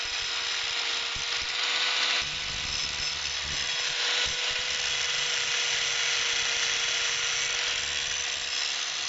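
An angle grinder grinds the heads off screws during a front suspension strip-out on an R56 Mini, a steady loud continuous whine running the whole time with slight shifts in pitch.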